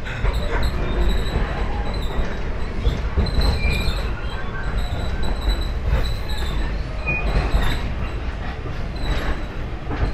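A passenger train on the Banyubiru line between Solo and Semarang runs past old Dutch-era station buildings alongside a small rail trolley, giving a continuous loud rumble with recurring high metallic wheel squeals and rattles and no speech.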